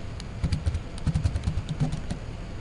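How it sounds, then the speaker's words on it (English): Computer keyboard typing a search, a quick irregular run of soft close keystrokes clustered in bursts, alone with no voices and a faint steady background hum. "I'll just type in a search"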